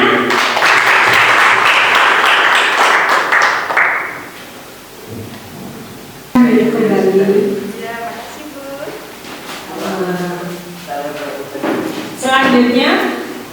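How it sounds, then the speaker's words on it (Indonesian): A classroom at MTsN 3 Kota Surabaya bursts into loud applause for a student presenter for several seconds, then it fades and a voice starts speaking. "Oke, aplaus untuk Vina."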